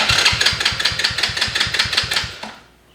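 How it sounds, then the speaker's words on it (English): An ATV's electric starter is pressed, cranking the engine in a rapid, even chug of regular pulses for over two seconds before cutting off into quiet without the engine catching. "you turn the key, and then you press the starter right here, electric start, and it's supposed to start up"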